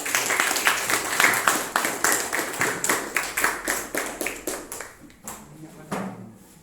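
Audience clapping for the Ternate and Tidore student groups in a classroom, a steady burst of many hands that gradually thins and fades out over several seconds.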